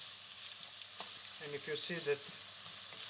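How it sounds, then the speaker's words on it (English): Onions frying in a small amount of oil and being stirred, a steady close sizzle with soft scraping strokes, while a voice speaks briefly over it. "Add your onions. Mix them a little bit."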